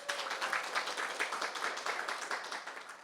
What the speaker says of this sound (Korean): 고창의 우리 문요한 센터장님께도 큰 박수 좀 부탁드리겠습니다.